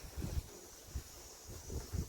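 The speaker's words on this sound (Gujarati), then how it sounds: "ઠંડો પવન આવે છે" Low rumbling gusts of cold wind buffet the microphone in several uneven bursts, separated by quieter stretches of faint airy hiss, on a farm near Girnar, Junagadh.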